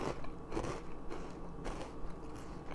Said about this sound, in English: This is like the best cheese crunchy corn snack, gluten-free,